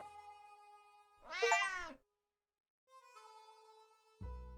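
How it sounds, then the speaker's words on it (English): A single clear cat meow, loud and close, rises from quiet in-game background sounds in the survival video game 60 Seconds; the cat appears when a mysterious bag is opened at a trader, followed by a pause and soft ambient tones. "we got a f***ing cat"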